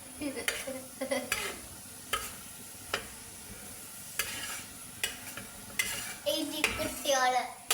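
Ingredients are sautéed in a pan while a utensil stirs them, giving a quiet sizzle under repeated clinking scrapes and taps at an irregular rhythm, growing busier near the end, close by with no speech.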